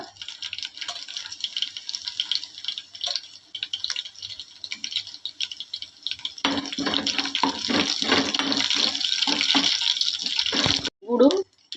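Cumin seeds dropped into hot oil in a home kitchen while making a nalleru stem chutney, crackling softly at first and then bursting into a louder, dense sizzle that holds steady before a short break.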